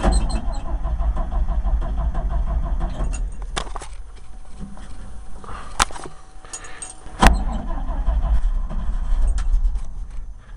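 Cold start attempt on a 1965 International R 185 truck engine: low rumbling cranking and rough running at close range, a lull midway, then a sharp burst and the engine picking up again, with a voice speaking briefly.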